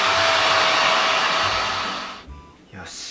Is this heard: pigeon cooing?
no